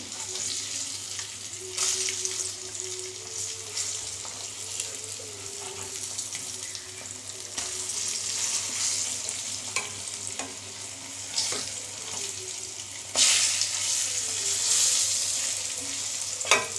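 Egg scrambling and frying in a pan, stirred with a spatula: a steady, moderate sizzle with soft scraping strokes throughout, no voices.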